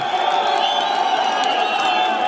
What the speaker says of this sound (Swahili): Wote makofi na vigeregere